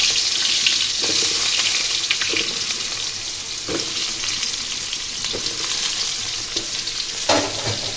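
Pointed gourd (potol) frying in hot oil in a pan, a steady loud sizzle throughout with occasional scrapes and knocks from a spatula stirring it, close up with no talking.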